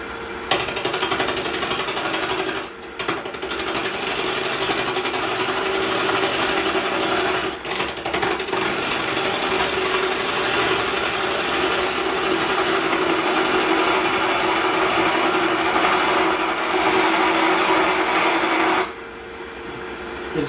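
A soapstone block is turned on a wood lathe, giving a loud, steady harsh scraping and grinding that runs almost the whole time, with a couple of brief dips where the cut eases.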